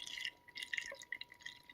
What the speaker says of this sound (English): we're going to take this tea, and pour all of it in here.